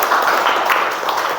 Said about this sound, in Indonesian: Kasih tepuk tangan untuk Widya.